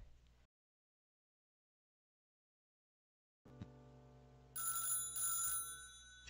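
Telephone ringing in the horror video game Dead Plate, a steady electronic bell ring that starts after a stretch of silence and swells louder in two bursts, close and with no talking over it.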